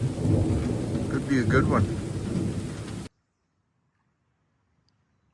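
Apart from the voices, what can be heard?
thunderstorm with rain and rolling thunder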